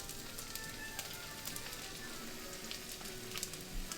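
Onion frying in hot canola oil gives a steady, close sizzle with fine crackling pops throughout, no talk over it.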